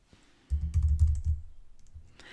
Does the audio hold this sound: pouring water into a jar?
no